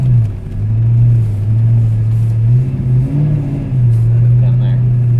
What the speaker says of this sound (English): Exhaust sounds great. Procharger sounds great.